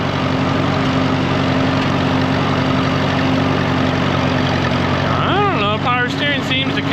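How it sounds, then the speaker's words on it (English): A tractor engine idles at night with a steady low rumble, while its power steering has just come back to life after the air was worked out of it. Near the end, a person talks over the engine briefly. "The engine sounds like it's got a little bit of a mist to it, but not terrible."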